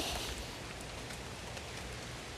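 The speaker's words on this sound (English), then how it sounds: "it is a rainy start today for day one of the new tour" Steady rain falling outside on the first morning of a trip, a soft continuous hiss that stays even and moderately loud for a couple of seconds with no voices.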